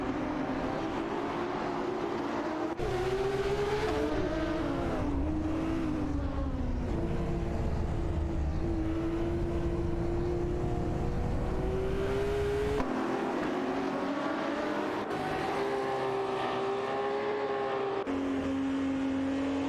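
AI race cars roar through a video game race, engines droning and shifting pitch as they rev and accelerate, steady and loud throughout with no voices.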